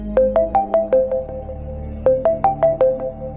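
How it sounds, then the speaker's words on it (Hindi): A home landline telephone rings with an incoming call: two bursts of rapid electronic chirping tones, each about a second long, separated by a short pause, loud and close with no voices. "तभी घर के टेलीफोन पर मुखिया का कॉल आया।"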